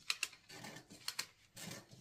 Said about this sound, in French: On prend la paire de ciseaux.